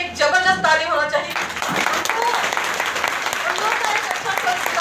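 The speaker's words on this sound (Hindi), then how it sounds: "लेकिन फिर भी मम्मी पापा के लिए एक जबरदस्त ताली होना चाहिए।" Audience applause breaks out after a brief voice at the start, then continues as a dense, steady wash of many hands clapping for several seconds, close and fairly loud.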